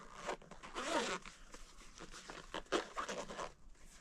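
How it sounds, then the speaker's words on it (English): The zipper on a GoPro 13 Black case is pulled open in a few quick, close, scratchy zips, quiet and heard alone. "Nice, easy open zipper."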